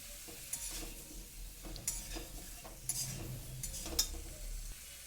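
Raw mango pieces stirred in hot oil for a sweet-sour pickle, with a soft, quiet sizzle and a spoon scraping the pan roughly once a second, four or five distinct strokes.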